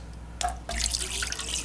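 Electronics cleaning fluid is poured from a water jug into an ultrasonic cleaner, making a close, steady splashing trickle that begins after a brief clink.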